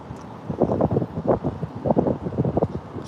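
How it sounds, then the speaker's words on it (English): Strong wind buffets the microphone in uneven, rumbling gusts that rise and fall over a few seconds, loud and close, with no voices. "So windy today."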